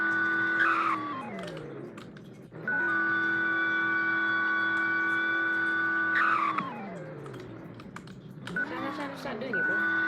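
A car in the Roblox game Greenville driving off and skidding, with a sustained engine drone that rises and falls in pitch and squealing tire skids at the start, middle and end.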